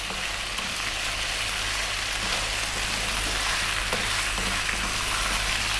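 Ginger garlic paste sizzling and frying in a pan while being stirred for an Indian chicken and potato dish, a steady broadband hiss with no talking, constant and close.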